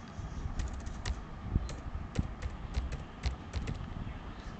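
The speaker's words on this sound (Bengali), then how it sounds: "এবার আমি টাইপ করছি XI অর্থাৎ 11।" Fingers tap out data entry on a computer keyboard, a close run of light clicks in uneven bursts with short pauses between them, heard alone at low level.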